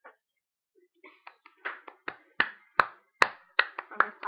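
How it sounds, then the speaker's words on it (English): Hands clap along to a musical beat, a series of sharp, close claps that start sparse and quicken into a steady rhythm over a quiet background. "I'm just clapping to the beat."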